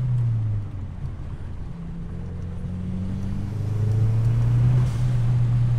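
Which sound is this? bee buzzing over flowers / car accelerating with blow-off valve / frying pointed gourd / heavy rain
car accelerating with blow-off valve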